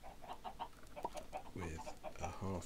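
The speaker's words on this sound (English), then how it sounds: "So apparently the chickens do spawn on top of the half slab." Chickens in the video game Minecraft cluck in a series of short, close calls, fairly quiet, with a couple of fuller squawks near the end and no talking.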